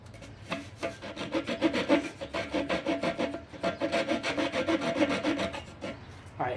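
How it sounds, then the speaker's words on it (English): A Remington hand saw cuts through a palm frond outdoors, giving a steady run of rough, rasping strokes in a fast rhythm that carries on for several seconds, close and fairly loud, with no talking. "we're going to use our Remington saw tool that we got from Gear Pack"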